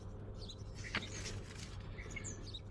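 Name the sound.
songbirds chirping: sparrows, starlings, swifts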